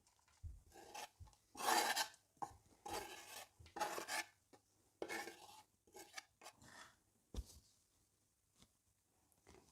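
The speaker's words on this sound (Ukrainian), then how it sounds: "І обсмажуємо декілька хвилин наші овочі." Vegetables frying in vegetable oil in a pan are stirred in a series of short scraping, sizzling bursts with quiet gaps between them, close and fairly soft.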